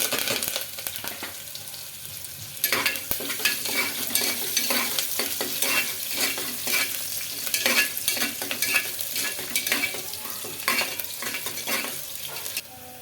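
Onions, cardamom and curry leaves frying in hot oil, a loud continuous sizzle broken by repeated scraping stirs of a spatula against the pan, with no talking.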